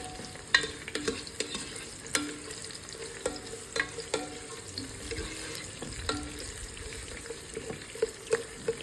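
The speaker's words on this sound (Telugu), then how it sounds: "దీంట్లోనే కడిగి పెట్టుకున్న కరివేపాకు కూడా యాడ్ చేసేసుకుని బాగా ఫ్రై చేసుకుందాం." Green chillies and curry leaves fry in a pan with a continuous sizzle, while a utensil stirs and scrapes in repeated sharp taps and strokes throughout, close and moderately loud.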